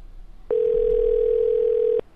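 A telephone dial tone sounds loud and steady for about one and a half seconds, a single unbroken hum that starts and stops abruptly against faint background noise.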